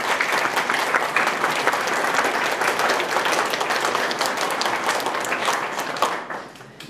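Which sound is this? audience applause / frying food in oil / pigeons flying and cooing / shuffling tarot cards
audience applause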